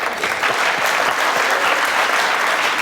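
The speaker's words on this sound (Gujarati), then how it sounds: "ક્યારેક ક્યારેક તાળીઓ એમ જ પણ વાગી જાય છે" A studio audience at a televised interview show claps steadily, dense applause of many hands sustained evenly at full volume throughout with no speech.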